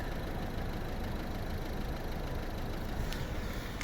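A 2011 Volvo V50 R-Design 1.6 diesel engine idles steadily with a low, even rumble and a faint knocking texture, and no voices.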